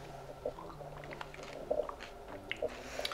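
Crunchy bits in a soy-flavoured protein shake being chewed up close, a few crisp crunches spaced out over a quiet background.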